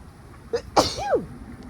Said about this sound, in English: Excuse my sneeze.